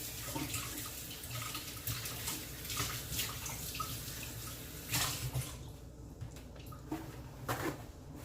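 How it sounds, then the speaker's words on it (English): Running tap water rinsing something in a kitchen sink, a steady splashing stream with brief surges and drips, close and fairly quiet. "I'm gonna just rinse this off."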